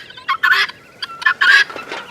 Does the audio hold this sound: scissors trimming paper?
no